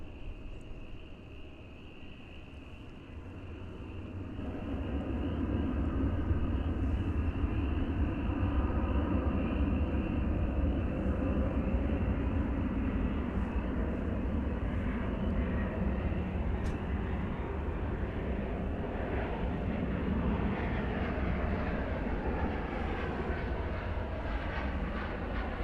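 A jet airliner takes off at DFW Airport, a deep steady engine roar swelling in after about four seconds and holding loud and broad to the end, heard from outside with no talk.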